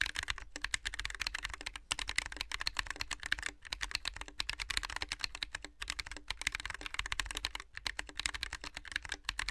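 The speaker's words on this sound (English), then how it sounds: "But let's do this typing test for real now." Rapid, continuous keystrokes clatter on a handwired mechanical keyboard during a typing test, close and crisp with brief pauses between bursts, no voices.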